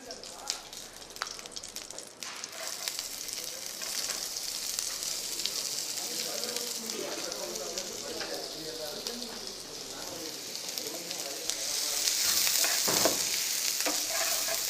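Chopped onions frying in ghee with coriander give a steady sizzle with intermittent scrapes and stirring clatter, getting a bit louder toward the end while someone talks over it.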